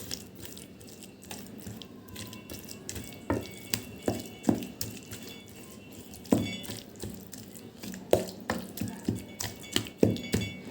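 Wet, squelchy hand-mixing of mashed papaya bharta with black cumin, sugar and spices, a series of soft irregular squishes and slaps close by, growing more frequent toward the end.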